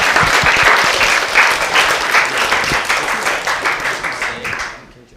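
A hackathon finals audience applauds steadily with dense, continuous clapping that holds for several seconds, then tapers off and fades out at the end.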